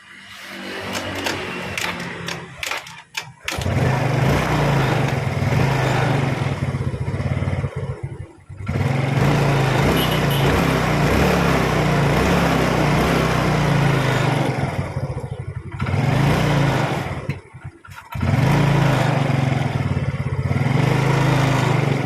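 A Yamaha Mio motorcycle is kick-started, and after a few clattering kicks its small engine catches and idles loudly up close with a steady buzzing putter, briefly dipping twice before running on.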